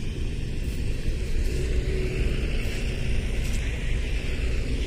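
A garbage truck drives past outdoors with a loud, steady, close engine rumble and road noise that holds evenly throughout, with no talking.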